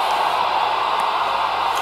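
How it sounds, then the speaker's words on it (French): Constant hiss of walkie-talkie static, even and fairly loud, with faint clicks. "un bruit neutre, un bruit blanc"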